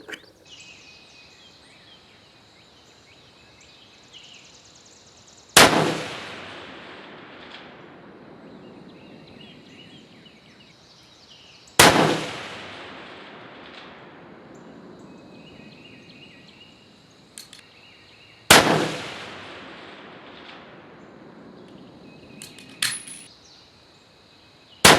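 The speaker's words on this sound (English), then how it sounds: "Okay, let's try for a 5-shot group now." An 1885 Winchester rifle fires on an outdoor range, with three loud, sharp shots about six seconds apart, each followed by a long rolling echo that fades out.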